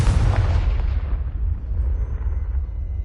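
A Confringo fire-blast spell exploding in the wizarding game Hogwarts Legacy: one loud, deep boom that fades into a long rumbling roar, with the hiss dying away over about three seconds.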